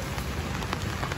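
Rain falls steadily on a surface, a dense, even patter of drops filling the short stretch at moderate loudness with no voices.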